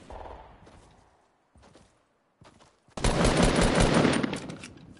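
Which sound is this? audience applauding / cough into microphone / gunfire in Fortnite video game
gunfire in Fortnite video game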